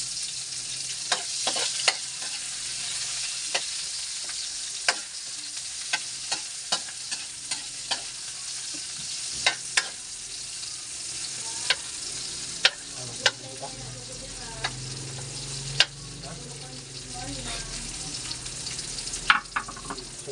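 Ingredients for Bicol Express, including chili, sauté in a pan with a continuous sizzle, punctuated by frequent sharp clinks and scrapes of a utensil stirring against the metal, close by and without voices.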